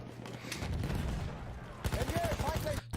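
Rapid SMG 08/18 submachine gun bursts from Battlefield 1, in a Domination match on the River Somme map, rattling in quick repeated volleys with a denser, sharper string of shots toward the end, mixed with game ambience.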